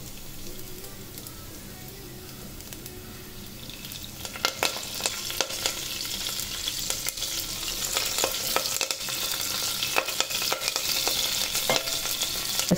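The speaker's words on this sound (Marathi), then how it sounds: "लसूण कढीपत्ता छान तळलेला आहे आपला" Garlic and curry leaves fry in oil for a tempering, starting as a quieter sizzle that swells into loud crackling and spattering with sharp pops.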